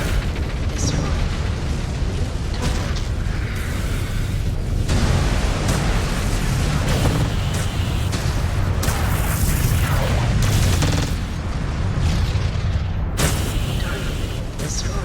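A destroyed target explodes in a MechWarrior battle with loud booming blasts and crackling fire layered over constant heavy combat noise, while voices talk through it.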